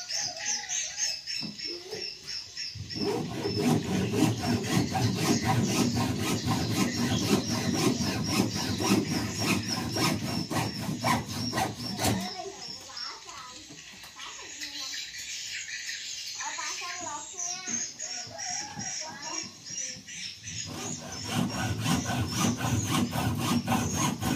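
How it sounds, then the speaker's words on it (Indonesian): A hand saw rasps through hollow bamboo in long rhythmic strokes, pausing briefly twice before the sawing resumes, close and fairly loud. "Kita memotong dengan memakai gergaji seperti ini."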